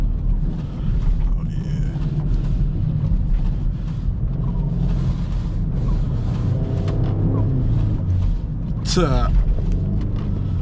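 A twin-turbo V8 all-wheel-drive car drives through snow, its engine a low steady rumble under wind buffeting, while people talk and call out inside the cabin; near the end one voice rises sharply.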